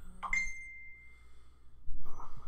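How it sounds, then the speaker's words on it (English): A phone notification chimes once near a quadcopter build bench, a bright ringing ding that decays over about a second, followed by faint clatter. "I always forget to turn off my phone."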